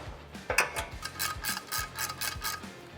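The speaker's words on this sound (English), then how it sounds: "This one, the threads are a little wonky, so we're gonna tap it, clean those threads up" A thread tap works through the wonky bolt threads on a Toyota Tacoma during a skid plate install, giving quick, close metallic ratcheting clicks in short uneven bursts.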